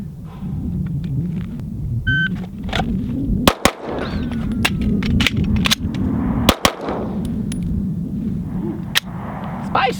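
Pistol gunshots on a practical shooting range during a timed accuracy drill, a few sharp cracks spaced irregularly over steady background rumble and murmur of voices.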